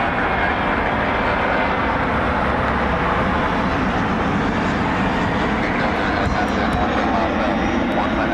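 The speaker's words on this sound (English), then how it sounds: "American is finally taxiing again" A jet airliner taxiing at Cleveland Hopkins airport, a loud, steady engine roar and whine filling the whole stretch without letup, with faint talk underneath.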